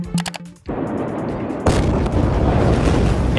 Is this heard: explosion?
yes